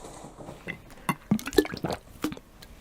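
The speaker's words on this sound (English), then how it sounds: "Let me now drink the water." A person drinks a glass of water up close, with a series of wet gulps and small liquid sounds, alone and without talk.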